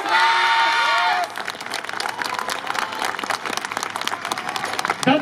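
Crowd applause and cheering fill the air at a YOSAKOI dance festival in Hitachi, loud and dense throughout, with a shouting voice and a whistle-like tone over the opening second before the clapping dominates.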